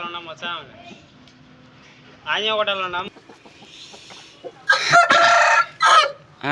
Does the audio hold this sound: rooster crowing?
yes